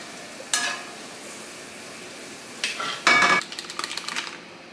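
Onions caramelizing in a pan give a quiet sizzle, broken by a few short scraping stirs and a brief clatter of utensil against the pan, with no voices.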